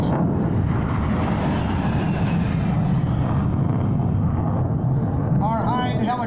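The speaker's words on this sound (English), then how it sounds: "Here are the A-10s, Kevin and Nathan." A-10 attack jets roar past at an airshow at Nellis, Las Vegas, a loud, steady engine rush that holds throughout and thins toward the end.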